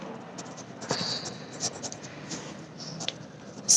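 Writing on a board during a maths lesson: a series of short, light scratching strokes with irregular pauses, near and soft, with no talk over them.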